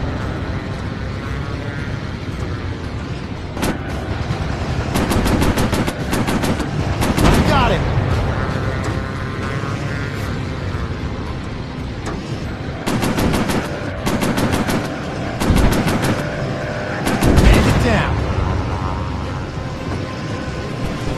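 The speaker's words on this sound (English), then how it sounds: "Machine guns overheated." Machine guns on warplanes in a VR Pacific air combat game fire in several rapid, loud bursts over a constant engine drone, with game voice callouts heard between volleys.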